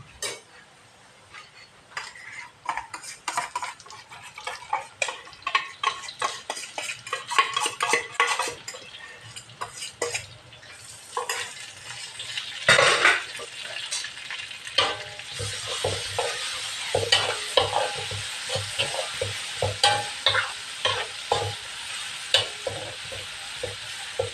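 Chili sizzles and crackles in a hot wok, growing louder as it goes, with repeated scraping and clinking of a metal spatula stirring.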